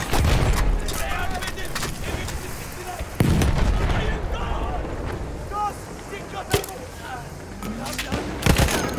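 Bomb blasts and gunfire in a Battlefield 1 Sinai Desert conquest match, sharp heavy booms and cracks over constant wind and battle rumble, with shouted voices mixed in.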